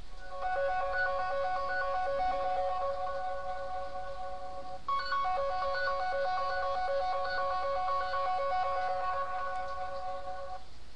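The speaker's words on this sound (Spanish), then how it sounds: "Le voy a dar a la de hacer sonar y voy a acercar el teléfono para que lo escuchen." A smartphone rings remotely through a find-my-phone ring option, held close to the microphone: a steady, looping electronic ringtone melody repeating for the whole stretch, clear and fairly loud over faint background hiss.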